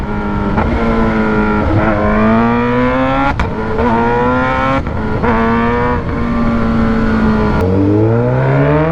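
A Kawasaki ZH2 motorcycle fitted with a full titanium exhaust is revved repeatedly up close, loud rising and falling engine howls surging over a rumbling idle, with no talking.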